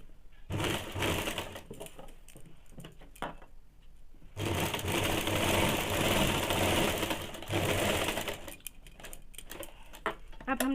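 A sewing machine stitches a salwar crotch seam in two long runs, a steady close whirring with brief pauses and handling noise between bursts, no talk over it.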